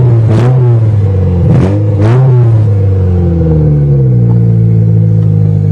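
A Toyota GTS engine cranks and catches after its starter is struck, sending up a loud, steady motor rumble with a few sharp revving bursts near the start before settling into an even drone.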